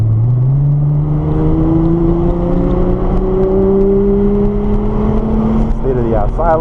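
A Nissan GT-R accelerates on a race track, its engine note rising steadily and loud under the speaker's voice, with shifting gear tones toward the end.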